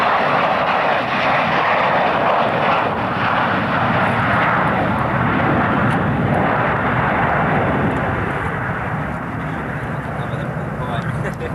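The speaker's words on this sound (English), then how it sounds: "it is described as the largest single bomb bay in the world on any aircraft, in a machine that serves in the maritime reconnaissance" A maritime reconnaissance aircraft of the RAF Strike Command maritime group, with the world's largest single bomb bay, flies past at the 1992 RAF Coningsby airshow, giving a loud, steady engine roar for the whole stretch under an announcer's commentary.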